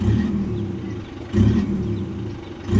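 Simulated turbo blow-off effect, mode one, from an electric throttle controller box fitted to a car, gives bursts of rushing, whooshing noise over a steady low engine rumble, with a louder surge midway and another at the end.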